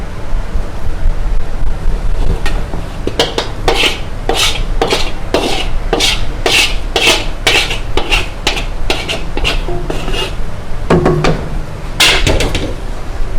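Burnt sugar cake batter, thin and watery, pours from a container into a large wok, with a steady rushing wash broken by a series of sharp clinks and knocks against the pan throughout.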